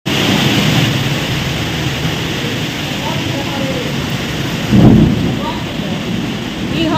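A hailstorm with heavy rain roars as a dense, steady wash of noise outdoors, and a deep thunder rumble swells about midway; faint voices may sit under the storm.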